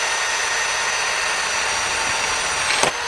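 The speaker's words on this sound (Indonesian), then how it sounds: "saya turunkan ke speed 1 supaya mata bornya nggak panas" An electric drill runs at its lowest speed setting while pressed hard into a bore, its drill bit grinding. The whine stays loud and unbroken throughout, with a brief scraping flare near the end.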